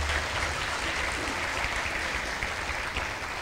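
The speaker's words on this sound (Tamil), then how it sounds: "உங்களுடைய கரகோஷங்கள் இப்பொழுது பதிவு செய்யட்டும்" A crowd applauds at a 75th-anniversary celebration, a steady, dense wash of clapping that fills the whole stretch at an even level without letup.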